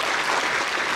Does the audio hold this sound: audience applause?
yes